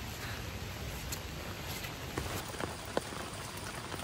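Steady rain falls outdoors, a soft continuous patter with a few sharper drops striking nearby, fairly faint overall.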